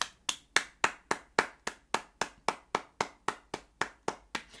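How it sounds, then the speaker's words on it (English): One person claps their hands in a steady rhythm, about sixteen sharp, close claps spaced evenly with nothing else between them. "let me stop clapping before y'all be like, hurry up."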